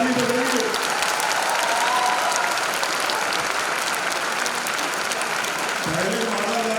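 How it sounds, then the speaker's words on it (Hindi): At an official agriculture department appointments event, an audience breaks into loud, dense, sustained applause, with a voice speaking briefly over it at the start and again near the end. "जोरदार ताली बजाइए।"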